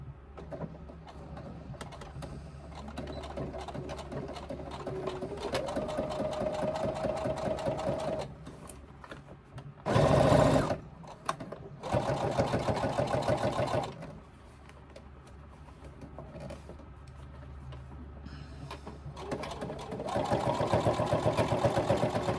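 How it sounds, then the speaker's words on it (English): A sewing machine stitches a seam on a crossbody bag in several bursts of rapid, steady whirring, separated by brief pauses and a louder clunk midway, recorded close up. "I'm actually sewing onto the outside there."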